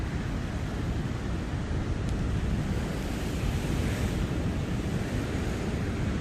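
Steady broadband wash of sea surf and wind buffeting at the shore during a night flashlight test, continuous and fairly loud with no speech.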